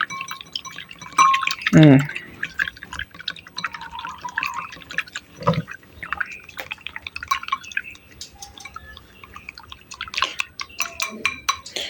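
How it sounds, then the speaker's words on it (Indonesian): Deworming medicine is stirred into water for chickens, with close drips, liquid sloshing and light clinks, plus a few louder splashes. A voice talks intermittently. "Kalau udah diguyur aduk-aduk biar rata sama airnya gitu lah"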